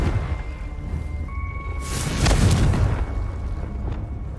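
A Confringo explosive spell going off in Hogwarts Legacy, a single deep boom with a brief whooshing burst midway, rising out of low ambient game rumble and faint musical tones.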